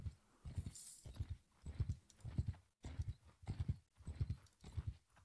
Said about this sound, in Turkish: İmparatorluk savaş atı.